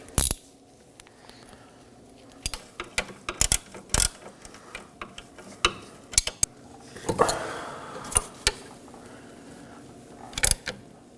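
A ratchet with an 18mm socket tightens the front CV axle nut on a 2018-2024 Chevrolet Equinox 1.5L L4, producing short bursts of close, sharp metallic clicks separated by brief pauses, with no one speaking.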